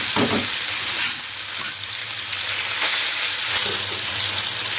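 Potato chips sizzle on a hot tawa beside spiced fish, a loud, dense, continuous hiss of frying with a few brief surges and no voices.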